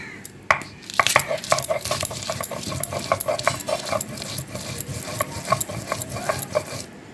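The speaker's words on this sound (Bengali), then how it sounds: "পানমুড়িটার সাথে কাঁচা লঙ্কাটাও বেটে নিব একসাথে।" Green chillies and pan leaves being ground by hand on a stone, with a rhythmic run of scraping strokes and sharp clacks, close and moderately loud, with no talking.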